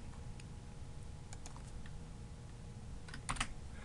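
Someone types on a computer keyboard, entering a formula into an Excel spreadsheet. Scattered soft key taps come in short clusters over a quiet room hum.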